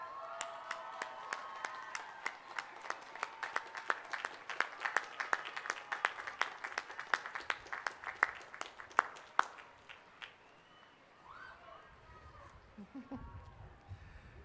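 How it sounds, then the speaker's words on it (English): Applause from a college commencement audience, many hands clapping steadily at moderate distance for about ten seconds before fading into quieter room noise and a low rumble. "please join me in giving those people a well-deserved round of applause"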